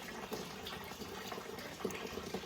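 Water running steadily through a BMW E30 cooling system as it is flushed during a timing belt job, a continuous near gurgling flow with small splashes and no voices.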